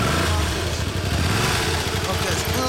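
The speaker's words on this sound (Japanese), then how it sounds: "エンジン音聞かせてもらえますか。" A 2013 Honda CBR400R (NC47) motorcycle idles close by with a steady, pulsing low rumble while people talk over it.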